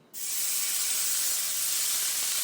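Strips of bacon laid on a hot grill give off a sudden, loud, steady sizzle that starts abruptly and holds as an even bright hiss with no voices.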